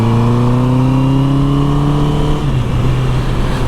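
A Honda CBR650R motorcycle fitted with an Akrapovic exhaust revs hard, its engine note climbing steadily and then dropping off, loud and close, with no talking.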